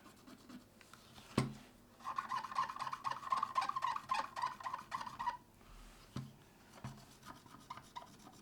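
Scrubbing with isopropyl alcohol to lift glue residue off a Game Boy Pocket makes a close, rapid scratchy rubbing that runs for a few seconds, with a sharp tap before it and soft handling knocks afterward.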